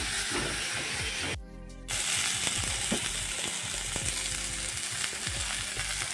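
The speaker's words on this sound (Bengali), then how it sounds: "সাথে হলুদ গুঁড়ো আর লঙ্কা গুঁড়ো দিয়ে একটু ভেজে নেওয়া হচ্ছে" Spices with turmeric and chili powder fry in a pan in a loud, close, crackling sizzle, with repeated stirring scrapes and a brief dip in the sound early on.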